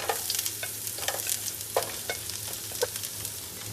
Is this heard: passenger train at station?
no